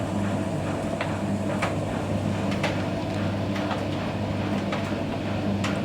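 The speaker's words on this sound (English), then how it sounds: "Just heard that pump chugging sound on this machine here" A Bosch EcoSilence Drive WAT28371GB washing machine running a 40-degree mixed load has its drain pump chugging. A steady low mechanical hum carries faint, irregular knocks at moderate loudness, with no voices.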